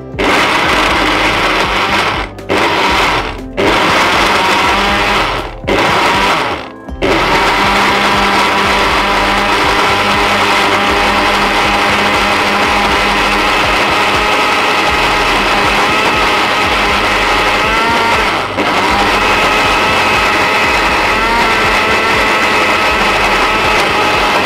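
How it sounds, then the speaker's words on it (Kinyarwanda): A blender whirs loudly, pulsing in several short bursts before running steadily, as it blends roasted eggplant for eggplant balls. "Ndabishira muri blender, ariko ntago tubisya ngo bibe biroge cyane"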